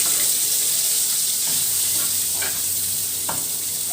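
Onions frying in a pan, a steady loud sizzle throughout with a few soft stirring clicks and scrapes, no voices.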